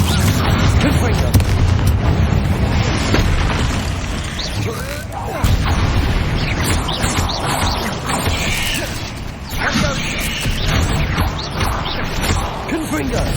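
Confringo fire-blast spell explosions in Hogwarts Legacy, loud booming crashes and bursts layered over busy continuous game action, with voices talking throughout.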